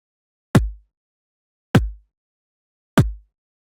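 Three solid kick drum hits from an RC-505 MKII loop station, shaped with sustainer and preamp effects, sound at an even pace, each with a crisp attack and a full, rounded low-end thump that fades quickly.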